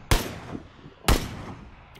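Two sharp, loud gunshots ring out in PUBG about a second apart, each trailing off into a short echoing decay.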